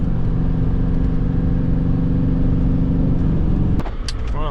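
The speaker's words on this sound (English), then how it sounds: "Oh look, here comes an economy car." A small economy car drives by on a road, its engine a steady mid-range drone that holds for several seconds before the sound shifts near the end.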